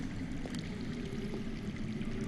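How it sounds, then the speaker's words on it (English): Underground running water in a Game of Thrones video game, heard as a steady low rushing flow with faint trickling, close and continuous throughout with no talk. "I hear water. From underground."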